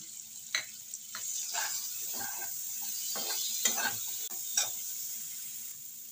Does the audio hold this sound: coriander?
yes